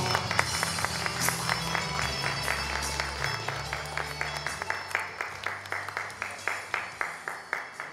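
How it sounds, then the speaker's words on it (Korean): Hall applause at a Dale Carnegie CEO club welcome gathering in Daegu, many hands clapping with music underneath, the claps settling into a rhythmic, evenly spaced beat toward the end. "큰 박수 부탁드립니다"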